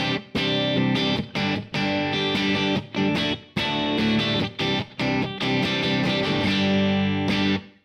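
Electric guitar through a Kemper ambient reverb preset, a subtle room-like thickening on rhythm playing: loud, continuous distorted chords with short choppy breaks, played alone without talk.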